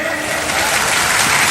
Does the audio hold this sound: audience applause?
yes